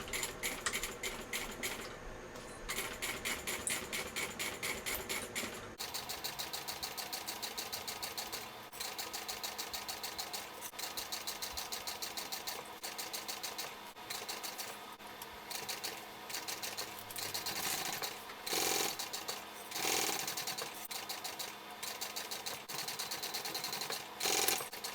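A sewing machine stitches the seam of a Brentwood backpack, top panel facing up, running in fairly steady bursts with short pauses between them. The whirring comes through clearly and close up, with no talking over it.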